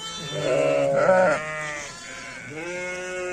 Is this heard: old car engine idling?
no